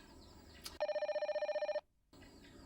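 An indoor telephone rings once, a loud trilling electronic bell pulsing rapidly for about a second before cutting off, then a short silence.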